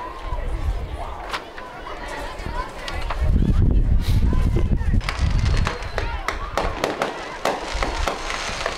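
Homecoming fireworks after a high school football game, bursting repeatedly over a steady outdoor crowd rumble, with sharp cracks and heavier booms clustered in the middle and commentators talking throughout.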